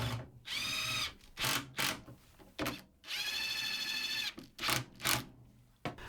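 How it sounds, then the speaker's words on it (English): A power drill drives screws into the wooden base of a cabinet, with several whirring bursts of varying length separated by short pauses, close and clear. "I'll get some screws in from the back."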